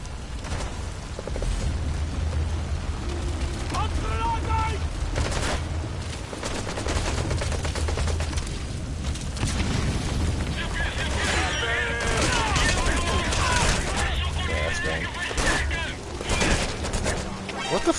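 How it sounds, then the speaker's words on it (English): Bursts of gunfire from a tower rattle on and off in the Metal Gear Solid V: The Phantom Pain video game, loud and dense, mixed with mechanical clatter and crashes beneath game audio. "Who the fuck is shooting me?"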